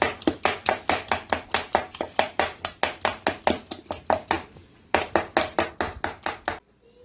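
Steady rapid chopping of okra with a metal ladle for an Ivorian red-oil okra sauce, about thirty loud close strikes in an even rhythm with one brief pause midway, no talk.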